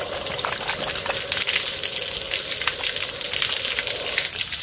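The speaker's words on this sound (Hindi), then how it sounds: "मैं टैप ये जो वाल है ये खोलने लगा हूँ और उधर से पानी की सप्लाई शुरू हो जाएगी।" Water gushes steadily through a just-opened supply valve feeding a gas geyser water heater, a continuous close rushing hiss with no break, alone with no talk.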